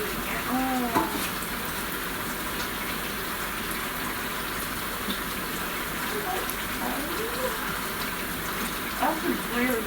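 Rice sits in a sieve in a kitchen sink under running tap water, a steady gushing splash with intermittent clatter and swishing as the grains are rinsed, with brief voice sounds in the background.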